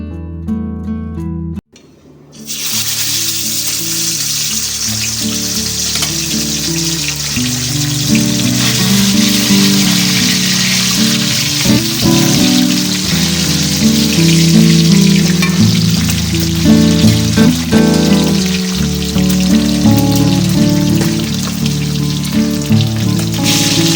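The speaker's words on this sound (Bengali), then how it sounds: "সর্ষের তেলটা গরম হয়ে গেলে এক এক মাছের পিসগুলো আমি ভেজে নেব" Tilapia fish pieces fry in hot mustard oil in a kadai, a loud, steady sizzle that starts sharply after a brief silence and holds dense crackling and popping throughout, with no voices over it.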